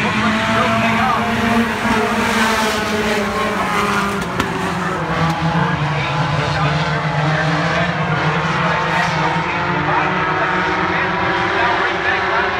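Stock cars in a Thunder Stocks feature race roar around a speedway while one car spins. Loud, continuous engine drone rises and falls in pitch as the cars pass, with tire noise, and an announcer talks over it throughout.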